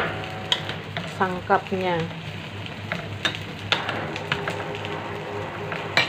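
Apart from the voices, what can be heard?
stirring pinakbet vegetables with fish in a pan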